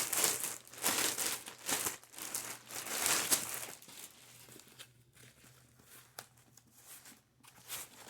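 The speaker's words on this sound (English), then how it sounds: "Take out all the packaging" Crinkling and tearing of packaging as a Coach bag is unboxed, loud rustling bursts in the first few seconds that give way to quieter scattered crinkles and soft taps.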